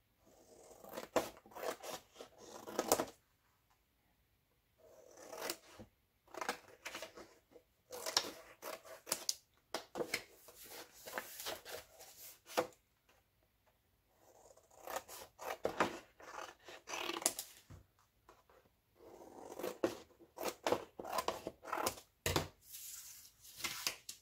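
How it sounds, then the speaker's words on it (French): Scissors snip repeatedly through paper corners for a beginner scrapbook album, close and crisp, with rapid bursts of cuts separated by short pauses and light paper rustling. "après, quand vous avez fait ça, là, vous venez couper les coins"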